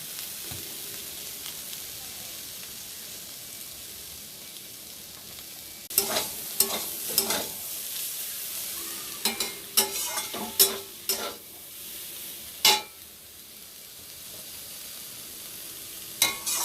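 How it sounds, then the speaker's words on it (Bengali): Cauliflower, potato and spring onion fry in a pan with a steady soft sizzle, broken from midway by a cluster of sharp scraping and clattering stirs of the spatula. "এখানে করছি পেঁয়াজ কলি ফুলকপি আলু দিয়ে ভাজা"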